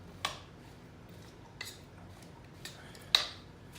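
Potatoes being tossed with black pepper and seasoning: a few soft, spaced scraping clinks of a utensil against a bowl, quiet and close, with no talk.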